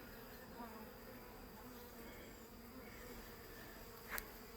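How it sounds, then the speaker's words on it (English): A dense, steady hum of many robber bees buzzing close by at a hive, continuous and low, with a brief sharper buzz of one passing near the end. "So all these bees here, they're robber bees"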